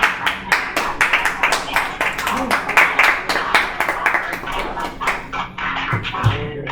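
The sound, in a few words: congregation applauding in church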